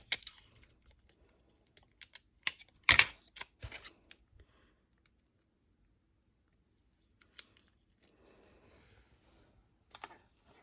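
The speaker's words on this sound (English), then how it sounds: "Let's tape this one down too." Tape is torn and pressed down on Christmas mandala coloring pages in scattered short bursts of ripping and tapping, with long quiet gaps between them.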